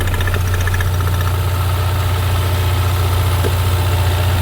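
A 2016 Ford EcoBoost direct-injected engine idling, giving a loud, steady low hum with constant mechanical rattle and vibration throughout, with no voices.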